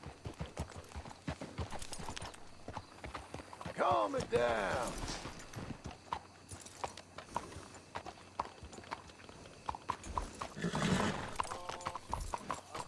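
Horses clip-clopping along and whinnying in the video game Red Dead Redemption 2, steady hoofbeats with a couple of loud neighs, while someone talks over them.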